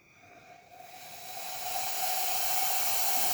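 A La Pavoni espresso machine's steam wand opens into a rising hiss that swells over the first two seconds and then holds as a loud, steady rush of steam.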